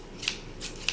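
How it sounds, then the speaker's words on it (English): Titanium-coated scissors snip three times at close range, each a crisp, sharp cut with short pauses between. "And as for the scissors, they feel sharp."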